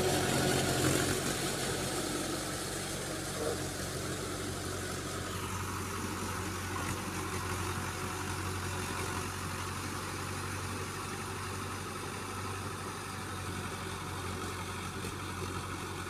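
A Mahindra Arjun 555 tractor engine pulling a 7-foot Shaktiman rotavator through a field runs steadily for the whole stretch, a low continuous drone at moderate level with no speech over it.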